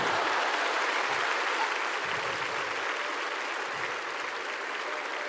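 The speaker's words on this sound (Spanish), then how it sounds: "Un aplauso para esa niñita." Large festival crowd applauding a comedian's stand-up set at the Viña del Mar International Song Festival, a dense, even wash of clapping sustained throughout, fairly distant and roomy.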